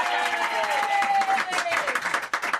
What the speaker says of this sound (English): How about the guests give the audience a round of applause?